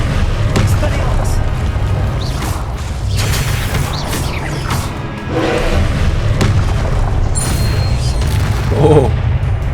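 Fiery Confringo blasting-curse explosions in the wizarding video game Hogwarts Legacy, several booming thumps and crackles over a steady low rumble of game sound, with a voice talking through it.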